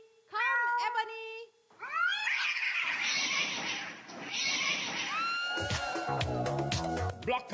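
Black cats in a TV advertisement meow loudly, then break into a dense, wailing caterwaul that builds into a frantic, chaotic clamour of overlapping yowls near the end.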